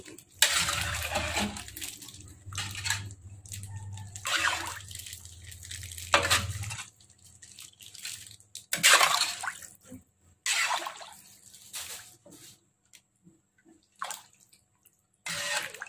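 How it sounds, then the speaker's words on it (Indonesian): Coconut milk poured into a large pot of beef offal and tendon rendang and stirred, giving sloshing, splashing bursts that come and go, close up, with a low rumble beneath the first few seconds. "Oke, kita masukkan santan kelapanya. Nah, ini kita aduk."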